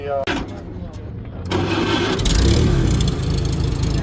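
An old car with a choke fires up, its engine catching with a loud surge and settling into a steady, rough running roar that carries on to the end, with people talking nearby.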